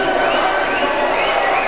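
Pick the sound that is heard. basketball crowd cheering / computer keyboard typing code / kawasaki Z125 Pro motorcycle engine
basketball crowd cheering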